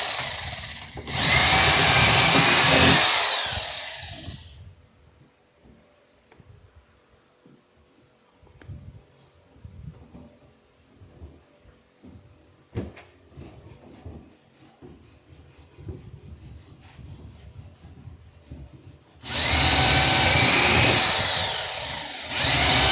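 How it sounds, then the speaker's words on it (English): A power drill bores a hole for an oarlock in a Chamberlain Alpha racing dory, two loud whirring bursts at the start and end separated by quiet handling and tapping. "drill this one"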